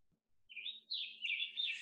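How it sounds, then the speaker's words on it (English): A high, thin American redstart warbler song in quick, bright phrases, sung close and clear with no other sounds around it. "This is an American redstart."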